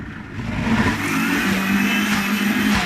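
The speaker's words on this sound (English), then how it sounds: "And then switch the blender on." A blender whirs up and runs hard while blending baba ganoush with herbs, a loud steady motor drone with a rising start and grinding texture, no talk.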